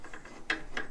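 Socket wrench ratchet clicking in a few quick, faint bursts while tightening a bolt on a 671 Detroit Diesel engine mounted in a modified engine cradle.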